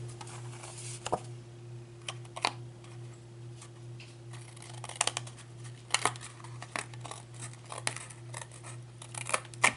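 Close scissors snip repeatedly through paper, crisp irregular cuts over a low steady hum, quickening toward the end.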